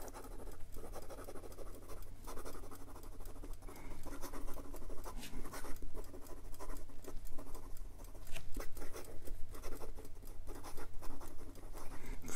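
A 1952 Sheaffer Triumph Touchdown Snorkel fountain pen with a very fine, dry nib writes quickly on paper. Rapid, continuous scratching strokes sound close and steady throughout, with no speech.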